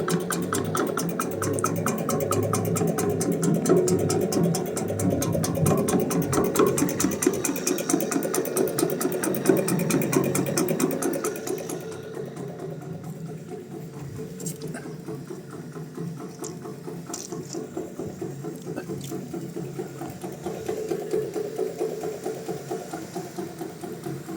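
A motorized sprayer applying a copper fungicide solution runs with a steady, buzzing engine drone throughout, louder and harsher at first, then settling to a lower, smoother tone.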